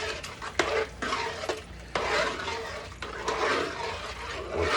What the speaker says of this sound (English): so now I'm gonna put the sauce in there and mix it all up